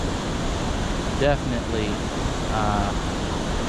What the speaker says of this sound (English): I'm hoping the noise of the waterfall isn't too much.